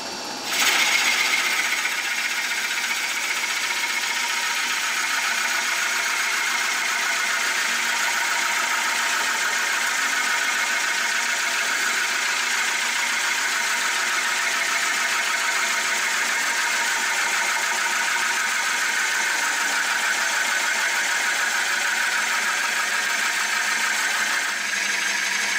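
A steady, high-pitched motor whine with a buzzing edge runs continuously, loud and close, as a power router cuts slowly through wood without pause.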